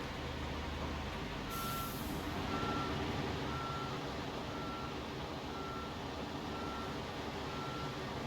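A cement truck, about three-quarters full, reverses slowly with its backup alarm beeping in an even, repeating rhythm over a steady loud engine drone, with a brief hiss near the start.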